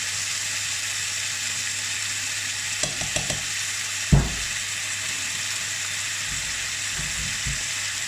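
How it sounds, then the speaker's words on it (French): Beef sprinkled with sugar sizzling and starting to caramelize in a hot pan, a steady broadband hiss throughout with a few faint utensil clicks and one sharper knock partway through. "Et là, ça commence à caraméliser"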